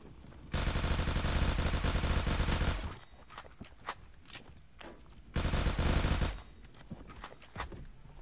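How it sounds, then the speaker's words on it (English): A Honey Badger rifle in a shooter video game fires long full-auto bursts like a machine gun, two loud sustained streams of rapid shots separated by quieter footsteps and scattered single cracks. "Machine gun, honey badger."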